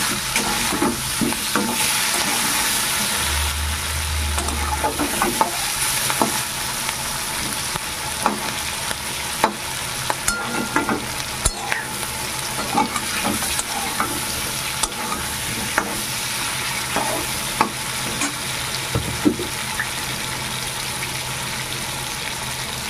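Onion, chili and yam fry in fish fat with a steady, loud sizzle throughout, broken by occasional scraping stirs and clicks of a utensil against the pan.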